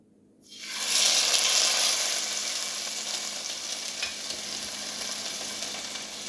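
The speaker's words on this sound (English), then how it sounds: "And I'm going to lay down my steak firmly. And I'm going to give it a good sear." A top sirloin steak pressed into a hot cast iron pan starts searing after a moment of silence, bursting into a loud, close sizzle that then holds as a steady hiss.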